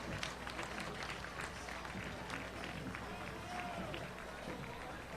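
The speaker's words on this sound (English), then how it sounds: "Big round of applause." Crowd applause at a 2016 Fourth of July parade in Lake Bluff, a distant, steady spatter of clapping mixed with outdoor crowd noise and talk, heard throughout at low level.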